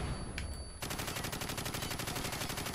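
Rapid automatic gunfire in Call of Duty 4: Modern Warfare, a brief softer burst then a sustained loud stream of rounds with an even, fast rhythm.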